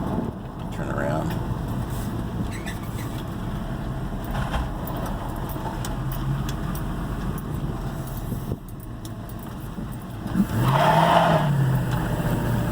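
A 1987 K10 truck with a 700R4 transmission accelerates at about half throttle on a test drive. The engine drone is steady and heard from inside the cab, with a rise in intensity near the end.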